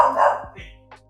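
A dog barks a few sharp times close by, the barks fading into a couple of quieter yips.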